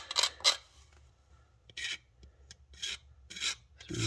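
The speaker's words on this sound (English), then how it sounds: "So just doing this little bit of the little scraping method." A blade scraping along a plastic seam on a 1:650 scale U.S.S. Enterprise model kit, heard as a series of short, close raspy strokes with brief pauses between them.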